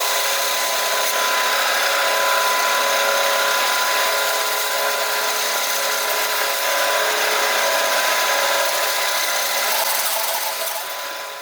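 Bandsaw running steadily through a wooden piece at a 45-degree angle to cut a slot, with the fence set halfway through, a continuous loud, even whine-and-rasp lasting the whole stretch and tapering slightly at the end.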